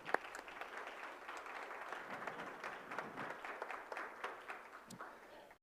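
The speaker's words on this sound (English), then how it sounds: "Let's clap that up." Applause for scholar athletes at a school board business meeting, a fairly quiet, thin patter of scattered hands in a meeting room, with sharp individual claps poking through and lasting several seconds.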